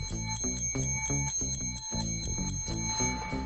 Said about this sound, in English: I heard you ring the bell